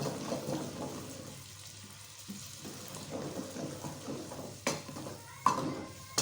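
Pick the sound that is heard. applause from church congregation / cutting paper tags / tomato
tomato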